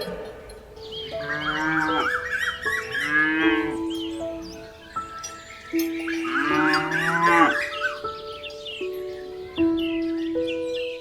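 A cartoon cow moos again and again, long low drawn-out calls close by, several in a row with short gaps between them.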